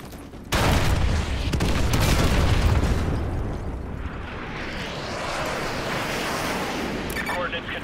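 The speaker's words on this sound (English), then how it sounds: "Fire mission received. Artillery inbound." Artillery strike in Call of Duty: Modern Warfare 2: a heavy booming blast erupts and rolls into a long, loud rumbling wash that slowly settles into a steady roar.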